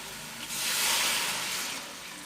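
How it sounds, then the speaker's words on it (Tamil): Water poured into a pot of mutton thalsha curry on the stove, a soft steady rushing splash that swells for about a second and a half, then eases off, faint and close with no talk. "தண்ணி மட்டும் ஊற்றுறேன்"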